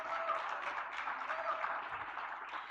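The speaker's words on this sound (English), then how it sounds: "please, let's give ourselves a warm applause again" Applause from an audience at an Erasmus+ pre-departure orientation session, a steady broadband patter lasting the whole stretch at moderate level, with faint background voices mixed in.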